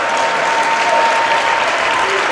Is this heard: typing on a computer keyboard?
no